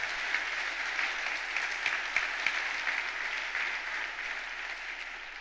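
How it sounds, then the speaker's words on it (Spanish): A church congregation claps together in steady, fairly distant applause during a sermon, a dense, even patter holding at moderate level across the whole stretch. "Dale un fuerte aplauso"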